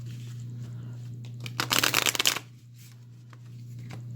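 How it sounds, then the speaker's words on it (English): A tarot deck of cards is riffled in one quick, crisp burst of flutter, close to the microphone over a low steady hum. "I love this deck, but it is so difficult to shuffle."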